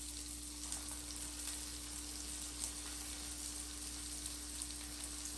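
Breaded chicken hearts sizzle and crackle steadily in a hot pan, a continuous frying hiss close by with a low electrical hum beneath it.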